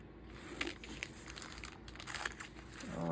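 Scissors cutting a piece of clear plastic bag or acetate sheet, soft close crinkling with a few small snips, quiet and steady with no talk.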